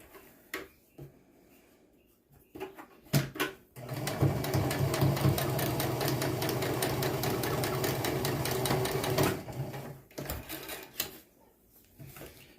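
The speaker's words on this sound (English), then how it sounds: "I'm stitching down to that same dot where I stopped my stitching on the straight line" A sewing machine stitches fabric for a face mask: a few brief clicks and short bursts, then a loud, close, continuous rattling run of stitching for about five seconds, ending with scattered mechanical clicks.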